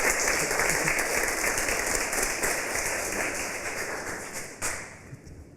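A church audience at a Korean Christian talk concert claps in a dense, sustained burst of applause that fades near the end, with a few scattered claps trailing off.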